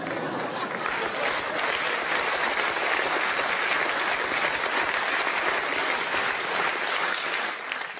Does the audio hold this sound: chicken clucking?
no